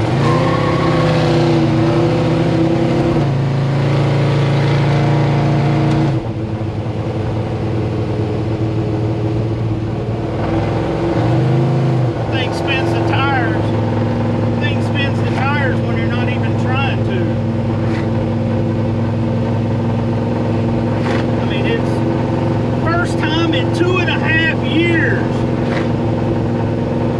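A Ford F100 race truck's 429 Hemi engine, its carburetors needing tuning, runs loud and close at a steady rumbling idle with a slight shift in tone partway through.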